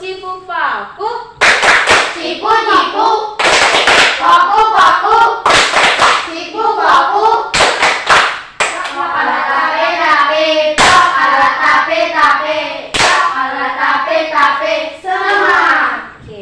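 Schoolchildren in a classroom performing the 'tepuk cipu paku' hand-clap routine: bursts of crisp group claps in set rhythms alternating with loud unison chanting, repeated several times.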